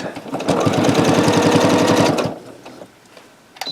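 A sewing machine stitches through a minky quilt in one rapid, rhythmic run of about two seconds, close and loud, then stops and leaves quiet room sound.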